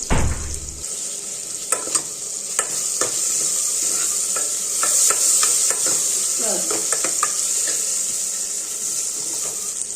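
Mustard seeds, cumin, cinnamon, chilli and onion sizzle in hot oil as a tempering, with a sharp clatter at the start, steady crackling and frying, and scattered spoon scrapes and clicks.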